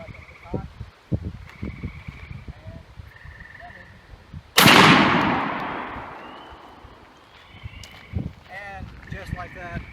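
A Stoeger M3500 auto-loading shotgun fires a single loud, sharp blast outdoors at a range, its report decaying over a couple of seconds, with people talking before and after the shot.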